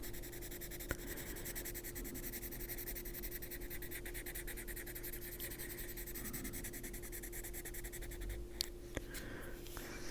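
Soft, dry scratching of a Lyra gray-green colored pencil moving across paper in steady short strokes, with a faint constant hum underneath.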